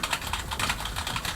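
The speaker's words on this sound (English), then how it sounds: "If you guys can see I'm typing stuff on here." Typing on an NPET K11 wireless keyboard, a fast steady patter of close, crisp key clicks running continuously with no voices.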